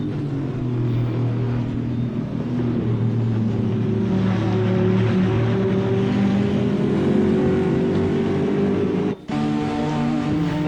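A GT4 race car in a sim racing game at Misano World Circuit, its engine droning steadily and loud throughout, with a brief sharp cut near the end as the throttle lifts.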